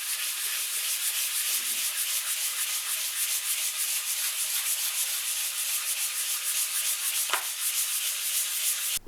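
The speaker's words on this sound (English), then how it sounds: "I'm just going to start working my way through it and get it all sanded back" Dried, hardened grain filler being sanded off a Blackguard Esquire guitar body during restoration, a continuous close rasping scrub that runs unbroken and even for the whole stretch, with no talk.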